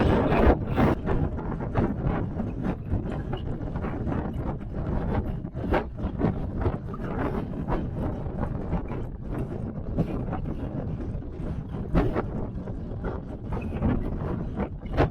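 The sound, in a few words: wind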